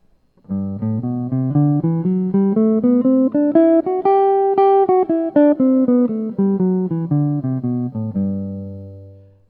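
A guitar plays the Ionian major scale pattern over a major 7 chord note by note, climbing steadily upward and then descending back down, each note clean and evenly paced, ending on a sustained low note.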